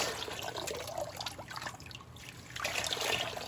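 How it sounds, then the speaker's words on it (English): Running water trickles and splashes over clay pellets during a rinse, close and continuous, with the flow swelling and easing slightly. "clay pellets and I'm going to rinse them down real good"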